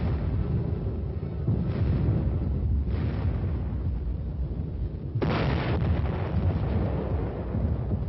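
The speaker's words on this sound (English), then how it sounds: "the giant field guns of both armies churned up the soil of Europe" Giant artillery field guns boom repeatedly as heavy, rumbling blasts over a constant noisy, wind-buffeted background. A larger detonation stands out partway through the sequence.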